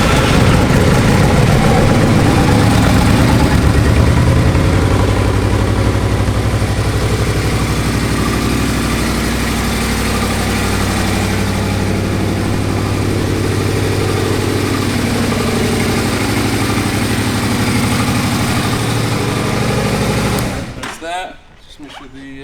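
A 2008 Yamaha Royal Star Tour Deluxe motorcycle engine idles with a steady, loud, low rumble for about twenty seconds close by, then cuts out abruptly near the end.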